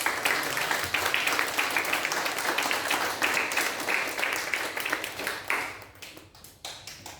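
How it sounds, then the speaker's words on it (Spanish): A church congregation applauds during a Sunday worship service, giving sustained, even clapping that thins and fades out over the last couple of seconds. "Demos un fuerte aplauso al Señor."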